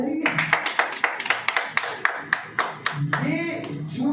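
A church congregation claps in a fast, steady rhythm of sharp, loud claps, with voices calling out over the clapping.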